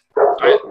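A dog lets out a loud, close bark in two quick bursts, heard alone with no talk over it.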